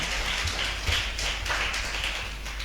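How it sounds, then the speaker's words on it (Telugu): Congregation in church clapping hands together, a few seconds of fairly quick, moderately loud claps in a loose rhythm. "చప్పట్లు కొట్టి దేవుని నామాన్ని మహిమపరుద్దాం"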